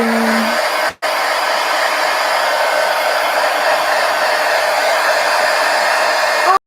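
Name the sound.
hair dryer drying paint in art journal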